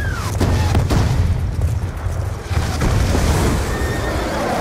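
A horse in the Black Ops 2 video game lets out a loud whinny, heard close and alone over rumbling booms and battle noise.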